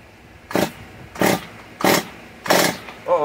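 A Stihl MS 194 T chainsaw sputtering through four short rhythmic bursts about every 0.65 seconds, each a brief rasping catch of the engine as it is pulled or revved, fairly close.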